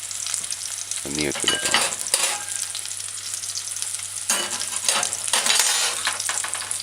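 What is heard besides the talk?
stir frying thyme, chocha and sweet potato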